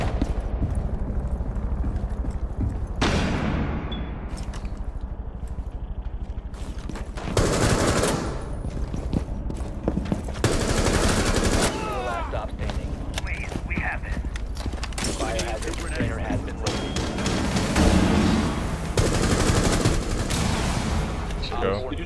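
Gunfire in a tactical first-person shooter match, with rapid bursts of shots fired through a wall, loud, repeated and rattling, over ongoing game sounds and footsteps.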